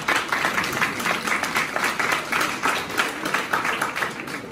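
Audience applause at a graduation ceremony for a professional training centre, a steady, dense wash of many hands clapping at moderate level throughout, with no break.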